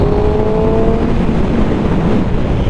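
A motorcycle ridden out on a cold road, its engine a steady, continuous drone with a low tonal hum and broadband wind rush throughout, close and fairly loud, with no talking.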